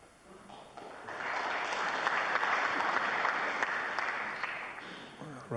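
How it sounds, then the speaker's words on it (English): A snooker audience at the 2002 UK Championship applauds a safety shot, the clapping swelling quickly to a steady, moderately loud patter and then fading gradually, with faint voices at the edges. "Round of applause for that safety shot"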